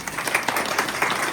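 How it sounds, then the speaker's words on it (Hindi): Applause from an audience at a CPR first-aid training session at a primary health centre, dense clapping holding at a steady moderate level for a short burst. "जोरदार तालियों से"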